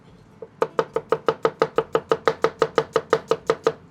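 A knife chopping through kebab meat on a board, about fifteen sharp, evenly spaced cuts in a quick steady rhythm, close and clear with no talk.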